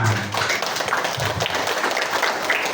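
Audience at a school event clapping for grade 6 students, scattered hand claps and taps close by, uneven and somewhat sparse rather than a full roaring ovation.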